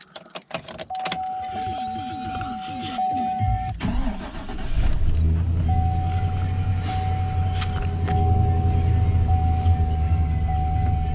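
A car engine is cranked with keys jangling and fires up right after a battery change, then settles into a steady loud idle close by, with a brief voice near the start.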